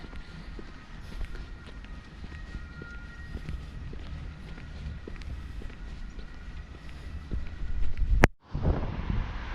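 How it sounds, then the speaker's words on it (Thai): Fairly strong wind blowing outdoors on a mild day of about 22–23 degrees, a steady broadband rush of gusts and microphone buffeting lasting throughout, with a brief sharp dropout near the end and no talking. "แล้วก็มีลม มีลมเบา ๆ ซึ่งก็ไม่เบานะก็แรงอยู่เหมือนกัน"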